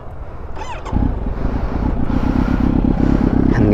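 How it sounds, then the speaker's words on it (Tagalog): Motorcycle fitted with a DIY exhaust runs nearby, a brief whine then a steady, loud low rumble that grows slightly stronger as it idles and revs. "ayun ang tunog ng exhaust natin guys"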